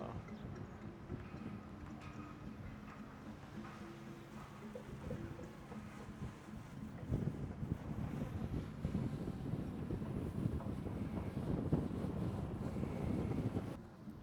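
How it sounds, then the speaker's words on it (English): Strong wind batters an action camera outdoors over a city business park, a constant low rumbling buffet that grows heavier and gustier in the second half, with no voices. "A little windy today."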